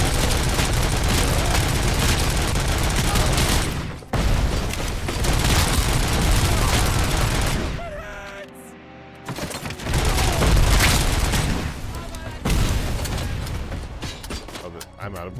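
Heavy gunfire and booming blasts in the RoboCop video game, loud dense bursts broken by a short quieter stretch, with voices talking over it.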